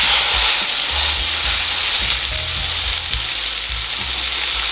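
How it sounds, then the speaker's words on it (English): Steak searing in a very hot griddle pan, a loud, steady frying sizzle that fills the whole stretch, with faint low knocks from the pan underneath and no talking. "Beautiful steak into a searing hot griddle pan now"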